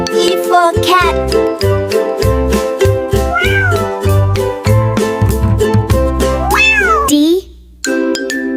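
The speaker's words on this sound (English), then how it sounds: "C for cat." A cat meows in drawn-out, rising and falling cries over steady, bright children's music with a bouncing beat, the meows close and prominent near the start and again toward the end.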